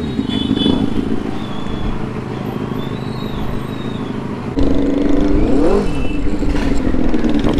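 Superbikes, including a modified Indian motorcycle, set off together at the start of an Independence Day group ride, their engines revving and rising in pitch, then jumping louder as more bikes pull away nearby.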